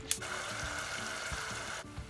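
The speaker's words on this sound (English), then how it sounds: "So while that one's simmering away and caramelizing, and this one's kind of bubbling as well" Chicken laksa soup simmering in a pan with fish sauce added, a steady close bubbling and sizzling hiss that holds level for most of the clip before cutting off near the end, with no talking.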